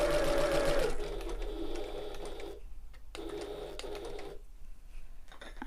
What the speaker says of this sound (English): and sewing across the width